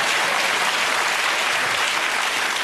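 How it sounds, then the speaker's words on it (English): Dense, even studio audience applause on a British comedy panel show fills the whole stretch, loud and sustained without pauses. "That deserves a round of applause."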